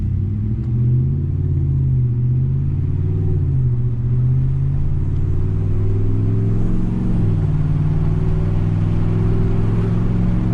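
Ram 1500 pickup with a 5.7L Hemi V8 and Borla S-Type catback exhaust under light acceleration, a deep, steady exhaust rumble that rises gently in pitch through the gears, heard from the cabin.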